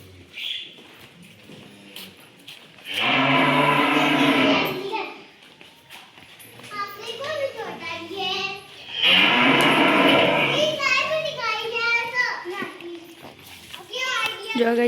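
Cows lowing on a farm, two long moos a few seconds apart, with someone talking in between and after.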